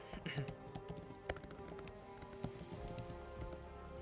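Computer keyboard typing at a desk, quick irregular key taps and clicks in short bursts with a few louder strikes, moderately close under a low steady hum and some background voice.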